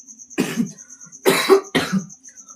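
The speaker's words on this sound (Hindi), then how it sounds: "थोड़ा सा खांसी आ रही है" A man coughs three times, close and loud, in a short sudden series during a Hindi-language maths lesson, with quiet room tone between the bursts.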